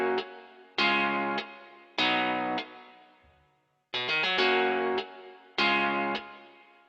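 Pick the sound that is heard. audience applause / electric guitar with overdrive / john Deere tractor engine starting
electric guitar with overdrive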